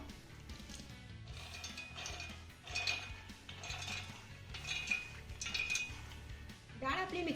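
Soaked dal is scooped from a bowl into a steel mixer jar, producing repeated metallic clinks, taps and scrapes of utensils at close range in a quiet kitchen.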